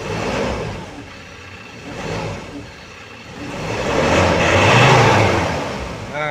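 Ford Ranger T6 pickup engine revving under a short blip of throttle, a mid-pitched engine note rising in waves and swelling loudest toward the end, with a faint high whine.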